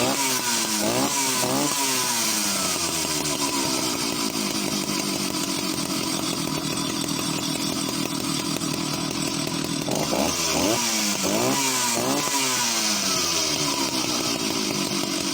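A vintage chainsaw engine runs loud and continuous nearby, with several sharp revs rising and falling over a steady buzzing drone.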